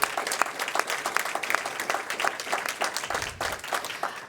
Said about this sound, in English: Let's give Melinda a big round of applause.